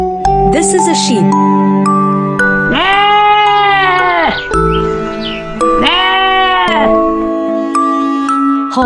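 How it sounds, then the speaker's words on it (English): A sheep bleats loudly twice in wavering, sustained cries, mixed with chiming music notes and a brief higher squeal at the start. "This is a sheep."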